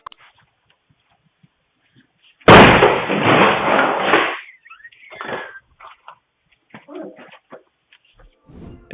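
A masked intruder kicks down a door at about 3 a.m. on a doorbell camera: one loud, sudden crashing burst lasting under two seconds, followed by scattered faint knocks and rustles in a quiet night.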